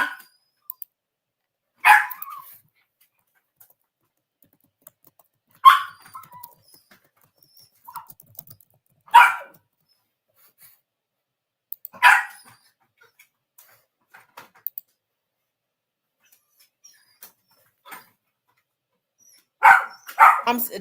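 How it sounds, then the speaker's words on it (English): Dogs bark indoors in separate short bursts, about six loud close barks spaced several seconds apart with quiet gaps between. "these dogs be doing it live."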